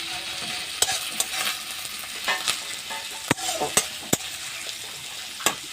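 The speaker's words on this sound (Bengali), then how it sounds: "এই আদা রসুন কাঁচা লঙ্কা বাটাটাকে দিয়ে আমি ভালো করে আবার কষে নেব।" Onion frying with ginger, garlic and green chilli paste in a pan, a continuous close sizzle broken by sharp, irregular clinks and scrapes of a spatula stirring against the metal, with no voices.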